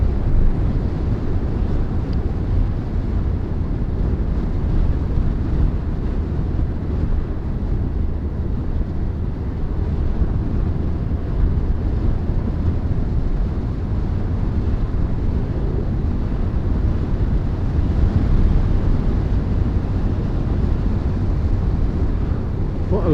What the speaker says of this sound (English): Wind is getting up a little bit, so you might be able to see if the wind cancellation on the camera works as well.